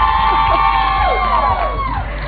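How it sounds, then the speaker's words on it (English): A studio audience at a televised dance show cheers and whoops as a group, a loud, dense crowd sound with overlapping yells rising and falling throughout. "Let's applaud the Slimpossible Academy."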